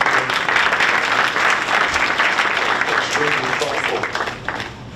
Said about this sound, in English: Just a round of applause to you guys for the work that you've done.